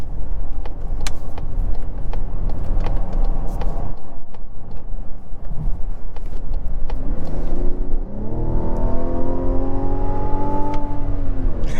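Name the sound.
2024 Mazda CX-90 Turbo SUV driving around corners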